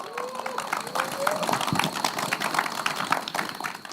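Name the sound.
audience applause for the professors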